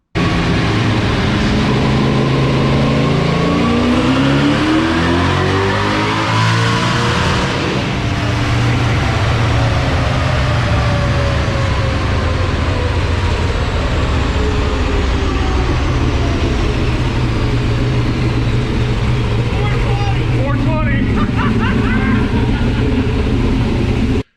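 A Camaro roars on a dynamometer during a power run that reached 420 horsepower. The engine is loud and sustained throughout, with its pitch climbing and falling across the pull.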